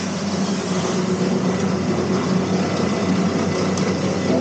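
A tractor engine drones steadily at road works in a Korean traffic jam, a continuous low rumble mixed with traffic noise and no voices.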